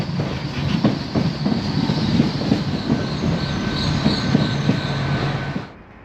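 A modern mainline passenger train runs on the line near Totnes and Teignmouth in South Devon, giving a steady close rumble with rhythmic wheel clicks and a faint squeal. It fades sharply near the end.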